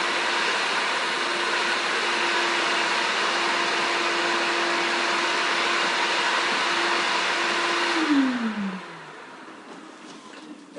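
A Shop-Vac 4-gallon vacuum with a 2-horsepower motor and a power head runs with a loud, steady whining hum, then switches off and winds down with a falling tone into quiet.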